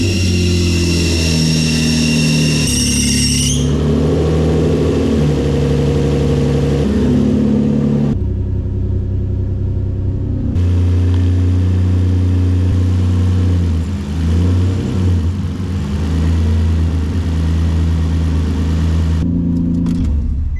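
A single-turbo Nissan 350Z with the DE engine cranks and fires, then revs in loud surges before settling into a steady idle with a brief drop in between; close and loud, with no talking.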